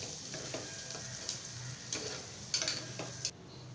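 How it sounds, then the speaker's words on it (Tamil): Sliced large onions are sautéed in a pan, a soft steady sizzle with a spatula scraping and tapping against the pan several times, close and fairly quiet. "போட்டு வதக்கி விட்டுடலாம்."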